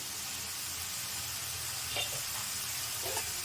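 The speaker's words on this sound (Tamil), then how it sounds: "அதை நல்லா நெய்யில் வறுத்துங்க." Bottle gourd frying in ghee in a pan, a faint continuous sizzle with low background hum and a couple of soft stirring clinks, close and quiet with no talking.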